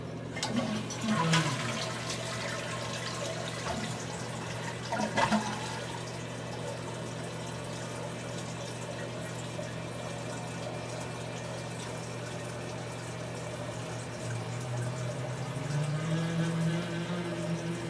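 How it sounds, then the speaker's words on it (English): A toilet in a run-down apartment with poor plumbing flushes over a steady running fan, a sustained rushing and humming drone that swells near the end as water refills. "I wanted you guys to hear what would happen when I flush the toilet because the plumbing is so poor"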